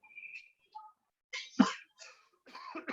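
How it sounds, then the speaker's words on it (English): A single sharp cough comes from a person during an English lesson. It is a brief, close burst in a quiet room, with a few soft vocal sounds around it. "Sorry, I keep coughing."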